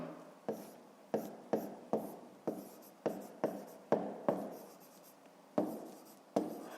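Chalk or marker writing on a board during a fifth-grade maths lesson: about a dozen quick, sharp strokes in an uneven rhythm, close and fairly quiet, with no talking.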